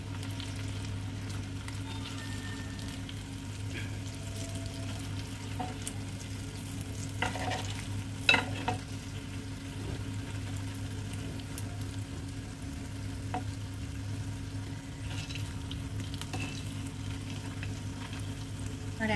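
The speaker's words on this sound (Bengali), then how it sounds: "এবার এই পিঠটাও আমি ভালোভাবে কুড়মুড়া করে ভেজে নেব" Urad dal jalebi fry in hot oil with a steady, even sizzle and light crackling. One brief clink sounds partway through, and there are no voices.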